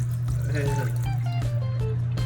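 Water pours steadily out of the drain of an aquarium protein skimmer on a reef tank, a continuous close trickle with a loud low hum from the tank equipment underneath and some brief rattles.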